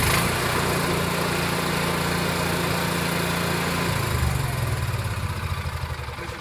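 An RV's onboard generator engine runs with a steady, loud mechanical drone, its pitch shifting partway through as it settles, with no talk over it.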